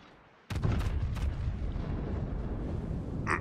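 A battleship's front guns fire in a naval video game, one sharp, heavy boom that starts abruptly and rolls into a long, loud rumbling decay.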